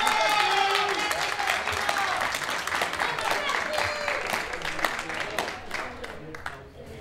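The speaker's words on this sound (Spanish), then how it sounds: "Un aplauso para Santino." Applause for a student at a closing gathering of a senior high-school class, a steady round of clapping from a group, fairly close and sustained before slowly thinning out.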